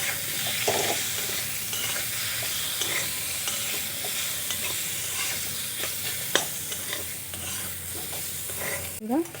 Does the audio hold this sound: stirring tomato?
yes